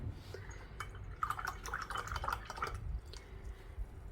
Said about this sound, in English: Pick up some of this water. I'll just spritz it a little bit.